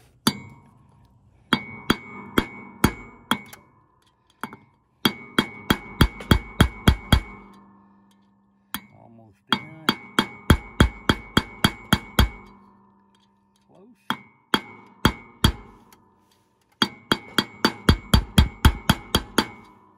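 A drive-in grease fitting is hammered into a John Deere Ztrac mower spindle, heard as close, sharp metallic strikes in rapid bursts of several blows separated by short pauses.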